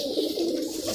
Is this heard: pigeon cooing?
yes